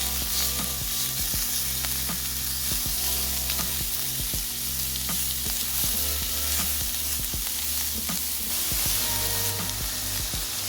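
Frittata ingredients frying in a skillet while being stirred, giving a continuous loud sizzle with scraping utensil clicks scattered throughout.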